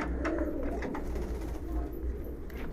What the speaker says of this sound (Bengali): এটা বলা ইন্ডিয়ান লাল গেন্দাদার কবুতর, ওরা হাই ফ্লাইয়ের কবুতর